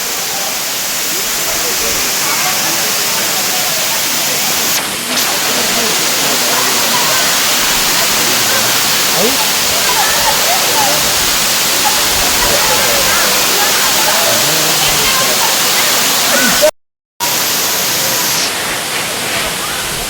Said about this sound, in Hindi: एठू जो झरना पानी आसुची